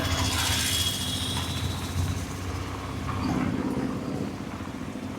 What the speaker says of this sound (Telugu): వైజాగ్లో వర్షాలు గట్టిగా పడుతున్నట్టున్నాయిగా?